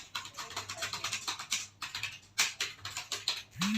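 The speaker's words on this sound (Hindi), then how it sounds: "हम आपको ये टाइपिंग करके दिखाते हैं कि आप कैसे टाइपिंग हिंदी में कर सकते हैं।" Rapid keystrokes clatter on a computer keyboard during Hindi typing, a close, steady stream of crisp clicks with a brief pause and a heavier key near the end.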